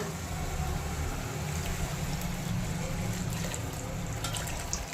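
Hot water runs into a pan of sautéed bitter gourd and lentils, a soft, steady wash of liquid over a low rumble that continues evenly for the whole stretch.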